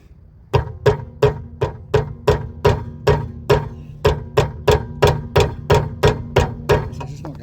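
A hammer strikes a Volvo delta-link rear trailing arm bush about seventeen times in a steady, even rhythm. Each blow is loud, close and metallic, with a short ring after it.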